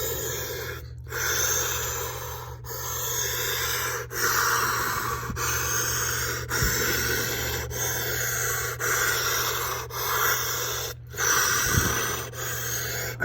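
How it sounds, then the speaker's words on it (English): Deep, heavy breathing by someone sitting in a homemade cold plunge tub, a steady run of sharp inhales and forceful exhales with short gasps and snorts, close and loud with a constant low hum underneath. "So I'm going to do some deep breathing."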